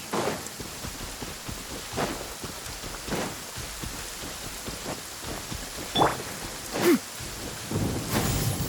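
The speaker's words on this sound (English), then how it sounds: "It's raining again?" Steady rain hisses across a Genshin Impact scene while thunder cracks and rumbles in sharp bursts about once a second or two, building to heavier claps near the end, with no talk.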